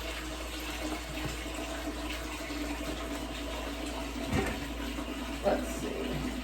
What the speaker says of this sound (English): put some water in that with some dish soap